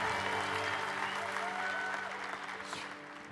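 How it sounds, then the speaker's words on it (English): Congregation applause at a church conference session, a dense wash of clapping that stays steady and fairly distant, with a low musical hum beneath, then thins slightly near the end. "Let's give them a good hand clap."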